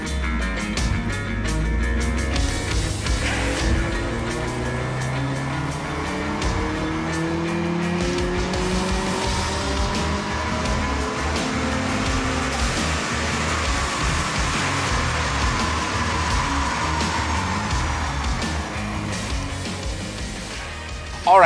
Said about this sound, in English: Alright, so we've done the power runs on the STI 12 and Sabry's tuned it and I'm really curious